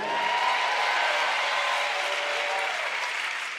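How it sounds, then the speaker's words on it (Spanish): Sustained applause from a church congregation during a pastor's sermon, a smooth continuous wash of many hands clapping at fairly even loudness, tapering slightly at the end. "Fuerte ese aplauso a Come on, Jesús. praise Jesus if you believe that."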